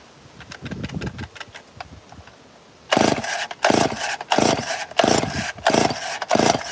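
Chainsaw with its muffler removed being pull-started: several short tugs and rattles, then a run of loud, rhythmic ripping bursts from repeated pulls or a sputtering attempt to fire, close up with no talking.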